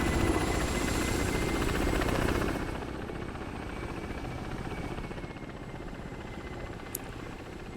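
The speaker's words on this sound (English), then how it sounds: "Look at this KA-50. He's trying. He is on fire" A Ka-50 helicopter in the DCS combat game, damaged and on fire with a missing wing, drones with steady rotor and engine noise, louder for the first few seconds and then settling into a slightly quieter continuous whir.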